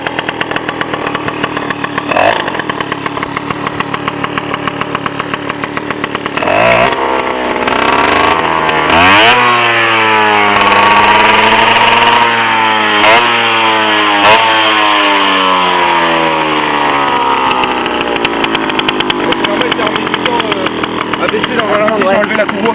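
A moped engine with its belt removed revs up and down repeatedly while the idle is being adjusted, a loud, close, buzzing two-stroke note rising and falling in waves, with a voice speaking over it.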